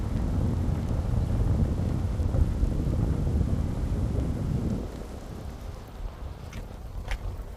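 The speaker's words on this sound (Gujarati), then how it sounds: "કેપ પણ ઉડી જાય એટલો પવન છે" Strong wind buffets the microphone beside Wascana Lake in Regina, a loud, continuous low roar that eases slightly toward the end, with a couple of faint high clicks.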